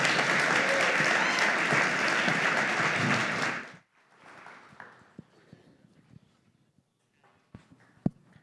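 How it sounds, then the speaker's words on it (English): Dense applause from a crowd fills the first few seconds, then stops abruptly, leaving scattered thumps and light handling noises. "can we give another round of applause for Danielle and Paula"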